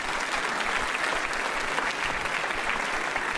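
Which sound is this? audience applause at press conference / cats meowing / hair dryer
audience applause at press conference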